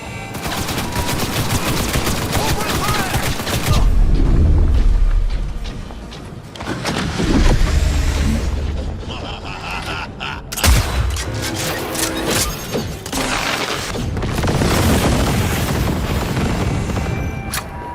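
Dense video game combat in Cyberpunk 2077: continuous rapid gunfire and automatic bursts mixed with deep booming explosions, loud and relentless, with occasional brief pauses before the shooting resumes.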